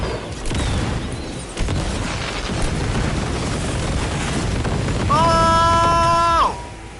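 Grenade blasts in the Cyberpunk 2077 video game, heavy booming bursts filling the clip, followed by a bright, sustained electronic tone near the end.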